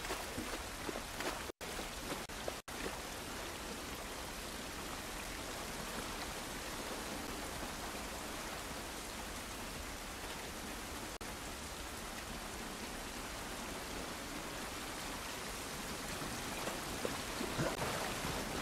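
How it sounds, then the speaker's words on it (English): Steady, dense rain pours down outdoors in a video game, an even hiss of drops hitting surfaces that holds constant throughout with no talking. "This rain ain't gonna do us any good."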